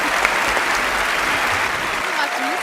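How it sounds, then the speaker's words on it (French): An audience at a model competition finale gives a short, dense burst of clapping that fills the room steadily and evenly. "Un tonnerre d'applaudissements, s'il vous plaît, pour Nina qui se démène chaque jour pour la cause."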